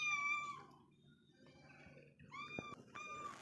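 A household cat, a mother cat with kittens, meows twice in a home kitchen where fish curry is cooked in a clay pot: a short near cry at the start and a longer drawn-out meow near the end, over a low background rumble.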